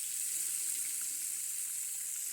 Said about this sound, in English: I thought the shower was running. That's the sink.